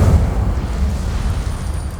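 Incendio fire spell cast in a wizarding video game, heard as a loud, close roaring whoosh that swells at once and rumbles heavily throughout the short moment.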